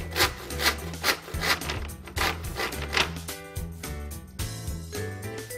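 A PANAGET parquet wall board is cut with repeated rasping wooden strokes that come close and in a steady rhythm over a low tonal backdrop.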